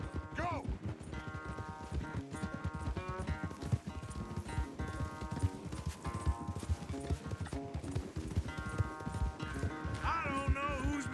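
Horses gallop in a race in Red Dead Redemption 2, with rapid rhythmic hoofbeats running throughout under orchestral music, a brief whinny and voices near the start and end.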